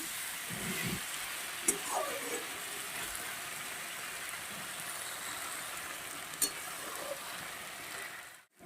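Onion and spice masala sautéing in oil in a pan for a spicy tengra fish curry, a soft steady sizzle running throughout with a few faint clinks of stirring, no talk.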